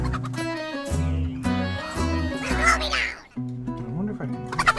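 Chicken clucking in the pixel-art pirate game Pixel Piracy, short repeated clucks over steady background game music, with a brief break near the end.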